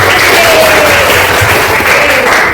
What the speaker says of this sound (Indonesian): tepuk tangan untuk seluruh kelas